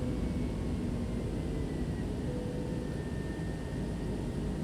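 An A320 airliner taking off in Microsoft Flight Simulator 2020 gives a steady, dense engine roar with a low rumble, continuous and unbroken throughout.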